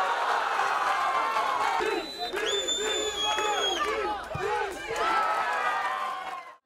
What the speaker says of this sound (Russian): Тем временем трибуны болельщиков не смолкали